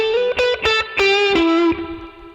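An overdriven electric guitar through a Fender Vibrolux amp plays a short bluesy phrase of bent, sustained notes, thick and warm, ending on a long ringing tone.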